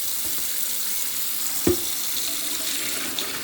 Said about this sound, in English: So we're just going to rinse them right quick.